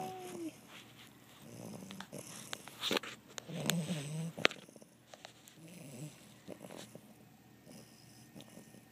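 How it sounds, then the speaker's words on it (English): A dog snoring while asleep, with repeated raspy, wheezy breaths and snorts over several seconds, close and moderately loud, with some rustling around it. "Is he snoring, Cash?"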